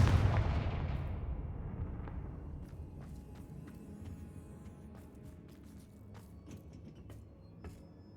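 A Confringo fire spell explodes in Hogwarts Legacy with a heavy, booming blast that rolls into a long rumbling tail, followed by scattered sharp crackles and smaller impacts fading over several seconds.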